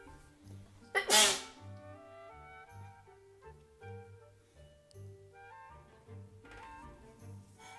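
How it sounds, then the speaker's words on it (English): One sharp, loud sneeze bursts out near the start over quiet background music that keeps playing in soft, steady phrases afterward. "I feel like I'm about to sneeze"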